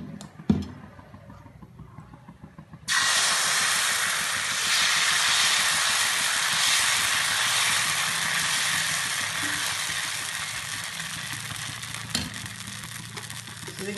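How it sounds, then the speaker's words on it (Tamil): Mudakathan dosa batter is poured onto a hot pan and sizzles, a sudden steady hiss that starts a few seconds in after a few small clatters, then continues loud and even with no talking. "இப்போ சட்டி காஞ்சிருச்சு, இப்போ தோசை ஊற்றும்."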